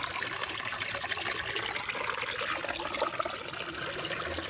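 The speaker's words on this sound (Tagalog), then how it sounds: "Dumami na yung tubig. Lumakas na lumakas." Strong spring water gushing and splashing as several springs pool together outdoors, a steady close rushing flow with no pauses and no voices.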